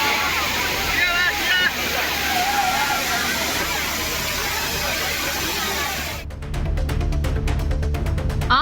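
Water pours steadily at Thirparappu waterfall in Kanniyakumari district, a broad constant roar with spray, while people's voices and faint squeals sit beneath it; near the end the rush shifts to a choppier, buffeting sound.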